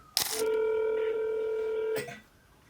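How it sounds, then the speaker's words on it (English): A phone number is keyed in for a call, giving a clear, steady electronic DTMF tone held for over a second and a half between two short clicks, close and loud, with no talking. "I'm going to make a phone call"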